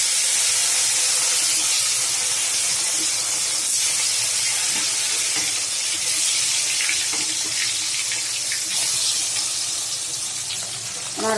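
Tilapia fish pieces frying in oil give a loud, dense, continuous hiss and crackle that holds steady throughout, close by and with no talking.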